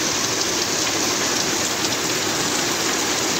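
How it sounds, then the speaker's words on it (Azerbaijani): Steady rain falls over Baku, a dense continuous hiss of drops on surfaces with no thunder, even and close throughout. "gözəl-gözəl yağış yağır"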